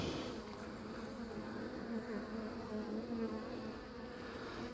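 Honeybees in a hive with no brood, drones or queen give off a steady, dense, close buzz that stays even and unbroken from start to finish.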